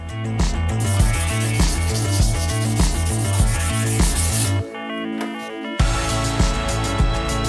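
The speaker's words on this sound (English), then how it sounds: "For the parts that are still difficult, you can use waterproof sandpaper." Waterproof sandpaper scrubs a cooking pot in steady, rhythmic back-and-forth strokes, loud and close, with a brief pause before the rubbing resumes.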